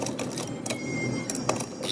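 A sewing machine runs steadily, stitching gotta trim onto a dupatta pallu, a close, continuous mechanical whir with rapid needle ticking and brief bursts of louder clatter.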